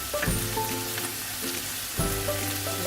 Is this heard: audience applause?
no